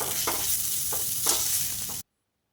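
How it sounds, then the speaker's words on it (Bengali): A savory filling frying until crumbly in a pan, a loud continuous sizzle with a few spatula scrapes and stirs, cutting off abruptly into silence. "ঝুরঝুরে করে ভাজা হলে পুর রেডি।"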